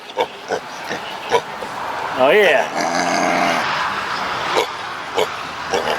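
A dog grunts and growls in a pig-like way, with a short rising snort burst in the middle and scattered snuffles around it, close by, while someone speaks briefly over it.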